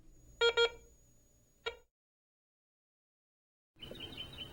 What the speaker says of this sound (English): press and hold the power touchpad for about 5 seconds or until you hear 2 beeps